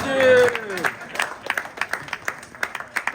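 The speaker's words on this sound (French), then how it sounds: "Quand même, il faut applaudir" Scattered applause from a small crowd at a Paris sapeur fashion performance, with a voice speaking at the start and then sharp, uneven claps continuing over about three seconds.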